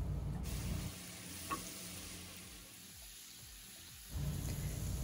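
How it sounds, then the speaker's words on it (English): Shrimp sizzling in butter in a pan, a soft steady frying hiss that dips quieter midway before swelling again, with a faint tap of a utensil. "I'll cook the shrimp for just a couple more minutes so that all of the flavor soaks in"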